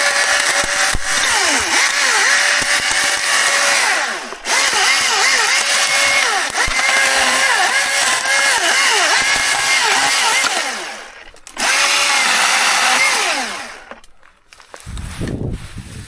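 Milwaukee cordless battery chainsaw running close up in long loud bursts with wavering pitch, cutting out briefly twice before winding down near the end.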